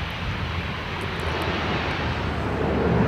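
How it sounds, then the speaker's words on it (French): A propeller airplane arriving on Lord Howe Island from Sydney or Brisbane, its engine drone steady and broad, growing slightly louder toward the end as it nears. "Chaque jour, un avion arrive de Sydney au Brisbane."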